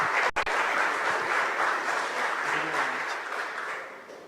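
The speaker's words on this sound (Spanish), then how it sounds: "Entonces les pido un aplauso muy especial para ellos tres." Audience applause for three presenters at a security talk on Maltego, a dense, continuous wash of clapping that stays full and steady, then gradually fades over a few seconds.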